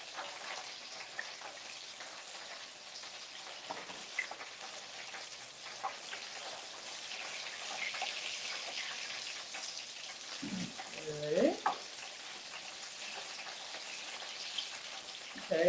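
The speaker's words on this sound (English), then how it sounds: "We're frying this at 375." Food frying in peanut oil heated to 375 degrees, a steady soft crackling hiss like light rain running throughout, with a couple of louder pops and bubbling bursts near the end.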